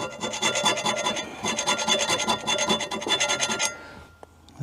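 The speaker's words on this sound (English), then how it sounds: "I'm just going to put a little scratch mark on there so I know which side is the side that's facing down" A steady rhythmic rasping scratch on a John Deere L110 mower blade, fast repeated strokes for several seconds, close and fairly loud, then stopping.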